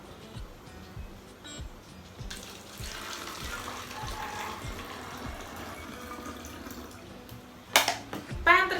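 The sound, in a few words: water poured into a glass and a bottle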